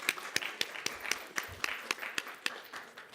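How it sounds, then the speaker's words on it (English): A small audience at an English symposium's three-minute presentation competition claps for the presenters, a sparse, fairly quiet applause with a few distinct individual claps standing out. "Can we get another round of applause for all of our presenters?"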